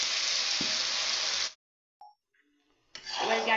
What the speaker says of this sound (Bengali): তারপর ঘিয়ের মধ্যে ছানার মিশ্রণটা দিয়ে দিলাম।